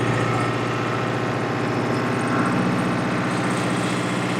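A 55 HP Farmtrac 6055 WorldMaxx 4WD tractor engine idles steadily, a low, even diesel rumble with a constant drone and no change in pace throughout.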